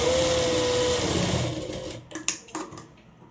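Sewing machine stitching an umbrella frock runs with a steady fast whir for about two seconds, then slows and stops, leaving a few soft clicks and handling knocks.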